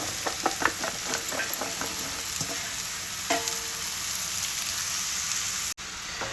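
Bottle gourd pieces drop into a pan of frying onions, green chillies and ginger-garlic paste, setting off a steady sizzle with a few sharp clattering hits early on, then settling into continuous close frying.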